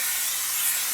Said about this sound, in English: Now we take a large bowl, spray the inside with a little